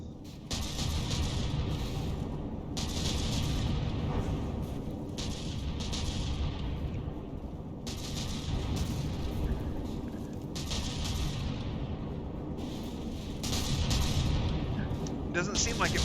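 Warship guns fire repeatedly in From The Depths during a battleship brawl, with a dense, steady barrage of booming blasts and rumbling under ongoing talk.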